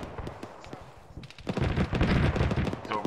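Gunfire from a hill in ArmA 3, with rapid shots that build into a loud, continuous volley in the second half and a voice speaking briefly near the start.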